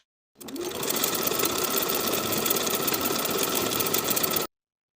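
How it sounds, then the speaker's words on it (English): A sewing machine zigzag stitching the two short edges of an elastic band together for pajama pants, running steadily and loudly at an even speed for about four seconds before stopping abruptly. "zigzag the edges together to attach"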